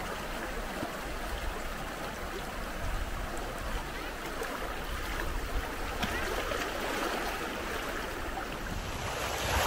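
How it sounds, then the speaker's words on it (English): River water rushes steadily during a river crossing below a mountain base camp in Bukidnon, a broad continuous wash heard up close, with faint wind buffeting the microphone. "Here we are crossing the river."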